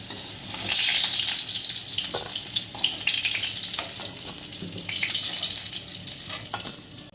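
Potatoes fry in hot oil in a pan, a loud, dense crackling sizzle that swells and ebbs, with occasional scraping from stirring.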